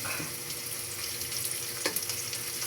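Pork frying in a pan with browned red onion and garlic for pork adobo with potato, a steady close sizzle with small crackles and stirring bursts throughout.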